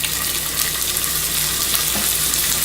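Carrots and ham frying in sesame seed oil give off a loud, steady, close-up sizzle with no talking.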